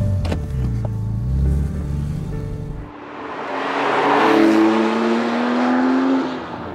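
A 2015 Porsche 911 Carrera S flat-six idles with a low burble, then revs hard and pulls away, climbing through the gears with a rising, loud engine note and no talking.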